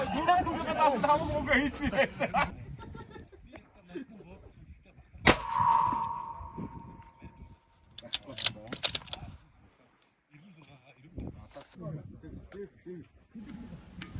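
A single sharp rifle shot at a 1000-metre shooting contest cracks out with a ringing tail, amid outdoor talk and a few fainter impacts.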